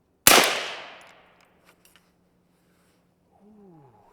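A single suppressed shot from an HK416 rifle fitted with a can on its suppressed setting: one sharp close report with a decaying tail, followed by faint mechanical clicks and a brief high whine near the end.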